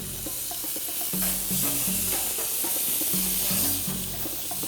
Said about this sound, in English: it's time to turn the chops over and grill the same way on the other side